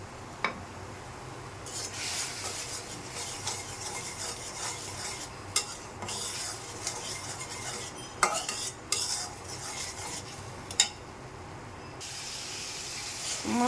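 Spices being stirred and sautéed in oil for a prawn fritter dish: a steady low sizzle under repeated scraping and rubbing of a metal spoon against the pan, with occasional sharper clinks, fairly quiet and close.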